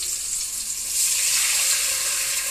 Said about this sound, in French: Là, vous mettez un verre d'eau.